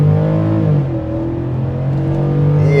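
A Ford F-150 Tremor with the 5.0 V8 in sport mode accelerates hard off the line, its engine roaring loud and close with a rising then steady drone through the run.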